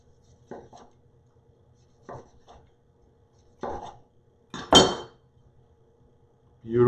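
A knife slices through cooked dry-aged beef on a cutting board, producing several separate cuts at irregular intervals with a sharper, louder stroke near the end, while a voice speaks faintly in between.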